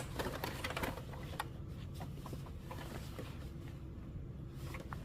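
A sewing machine stitches a sundress seam from back strap across the underarm, a soft, quick mechanical patter running continuously and faintly with no voice.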